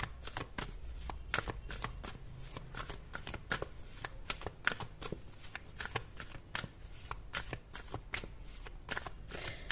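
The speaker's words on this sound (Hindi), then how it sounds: "तो मैं ये वाला, ये ओरेकल कार्ड्स यूज करूंगी।" Oracle cards are shuffled for a tarot reading, making a quiet, continuous run of quick papery riffles and slaps close up, with no talking.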